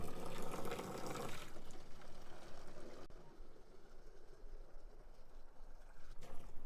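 Water gushes from a spigot fed by a well pump, a loud rushing splash at first that settles into a quieter, steady flow and trickle.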